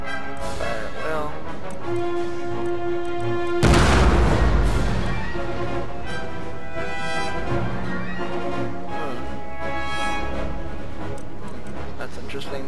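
Cannon fire in a video game battle: one heavy boom lands partway through, followed by rumbling decay, with talk and game sounds continuing around it.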